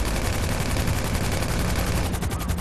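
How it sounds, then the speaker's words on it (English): Heavy automatic gunfire in GTA V Online from an Annihilator helicopter, a loud continuous rattling barrage filling the whole stretch without pause, no voices audible. "he's shooting at us with an annihilator"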